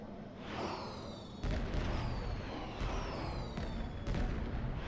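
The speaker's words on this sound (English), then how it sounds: "Fireworks, yay." Fireworks in a video game burst with several distant booms and whistling streaks, arriving in irregular pops over a faint background.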